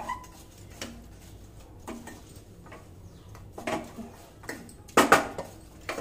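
Panjiri being stirred in a pan with ghee-fried dry fruits, scattered scraping and clinking of a spoon against metal, soft and intermittent with a louder cluster of clatters near the end.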